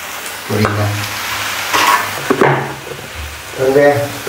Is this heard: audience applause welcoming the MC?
no